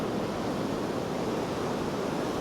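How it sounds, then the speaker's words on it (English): Waves lap steadily over a sandy shore on a quiet, deserted Northumberland beach, a continuous soft wash of surf close by with no voices. "just watching the waves lap over the sand"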